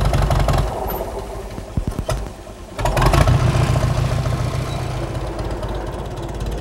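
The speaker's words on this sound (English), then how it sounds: "Yes, the mill is powered by a tractor." A tractor engine runs steadily as the power source for a grain mill in winter, a loud continuous low drone with a brief dip and surge near the middle before settling back to an even, close running note.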